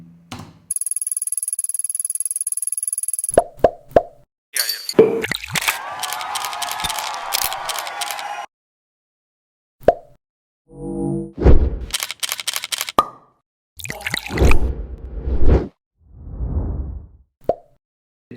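Sound-effects track for a short commercial: a sequence of sharp clicks, plops and camera-shutter snaps, a brief high electronic ring, noisy bursts and swooshes separated by silent gaps, all close and with no talk.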